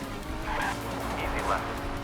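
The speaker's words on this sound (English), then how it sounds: "Noticeable difference in grip and the way the car slides." Rally car in Old School Rally slides on asphalt, its engine droning with tire squeal rising in two short bursts, loud and continuous, with someone talking over it.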